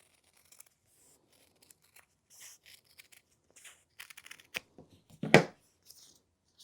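Scissors cutting a shape out of felt backed with freezer paper, quiet scattered snips and rustles of the material, building to one sharper louder cut near the end.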